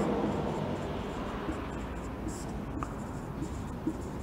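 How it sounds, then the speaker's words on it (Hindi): Chalk or marker scraping across a board during an abstract algebra lecture, a steady soft scratching close by over a constant background hiss, with brief faint taps. "तो मैं लिखता हूँ"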